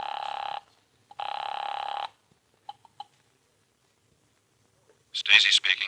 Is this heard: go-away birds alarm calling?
no